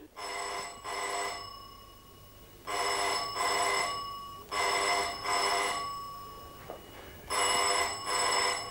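A telephone rings indoors in bursts of double rings, four sets separated by short pauses, clear and fairly close with no voices over it.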